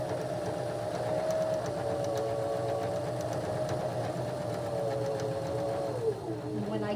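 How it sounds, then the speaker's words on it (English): A sewing machine stitches across the fabric of a gift bag with a continuous, even mechanical whir at moderate loudness, running alone with no talking. "so now I'm going to go ahead and sew across"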